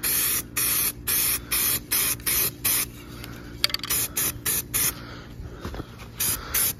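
Self-etching primer sprayed from an aerosol can onto aluminum lawn mower engine parts: a rapid series of short hissing bursts, roughly a dozen evenly spaced puffs, close and clear with no talking.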